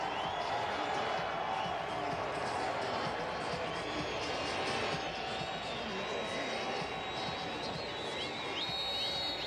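A crowd roars at a college lacrosse game, Notre Dame against Denver in 2013, a dense sustained cheer in the closing seconds that carries on throughout.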